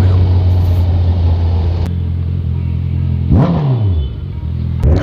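A Honda CBR 650F sports motorcycle rumbles loudly at close range with a steady low engine drone, then one sharp rev climbs and falls away near the end.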